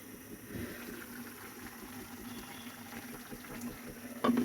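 Low bubbling simmer of duck meat boiling in a little water in a pot, a soft steady gurgle with a brief louder burst near the end.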